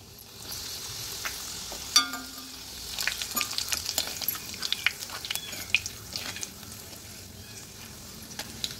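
Thin bitter gourd chips frying in hot oil in a wok over low gas, a steady soft sizzle with occasional louder crackles and stirring scrapes, no voices.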